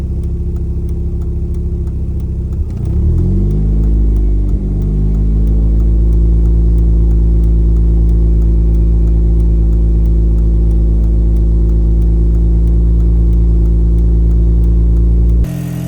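A warmed-up Audi S3 engine being prepared for 500 hp, idling loudly and close; a rev swell and settling around the third second, then a steady deep drone that holds to the end, with no voices.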